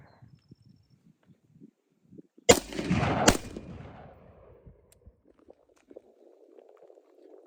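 Unsuppressed 5.56 rifle firing a 55-grain round from a 10.3-inch barrel outdoors: a sharp, loud crack followed by a second close report and a rumbling echo that fades over about two seconds, with quiet shuffling noises around it.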